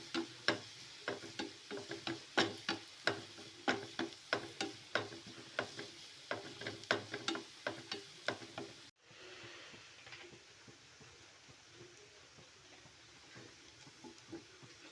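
Coconut pieces and onion sautéing in a pan for a mushroom masala, with a steady run of sharp spoon-stirring taps over a soft sizzle, then a quieter continuous frying hiss for the last few seconds.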